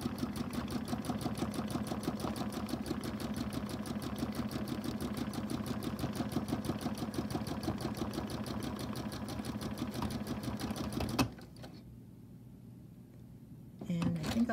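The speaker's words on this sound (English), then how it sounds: "I think I'll just sew over that a little bit" A domestic sewing machine stitching bobbin work runs in a steady, continuous rapid rhythm for about eleven seconds, then stops into near silence before starting briefly again, with a person talking quietly over it.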